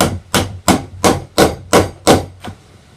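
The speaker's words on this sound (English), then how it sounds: "I just got a piece of trim I'm going to use, and then you tap that into place." A wooden trim piece tapped with a hammer to set an interior door, seven sharp, evenly spaced knocks close up, followed by a fainter final tap.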